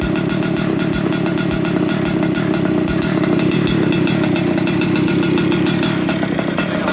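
A vintage kart engine fitted with a big bore 55 mm Atomic piston, 113 cc, runs steadily on its expansion pipe. The loud, buzzing drone stays close and constant for the whole stretch, with no talk.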